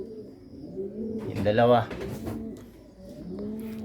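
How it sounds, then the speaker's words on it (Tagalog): Pigeons cooing in a loft of racing birds, a soft rolling coo rising in the middle, with someone talking nearby over the birds. "ito yung mga ibon mo"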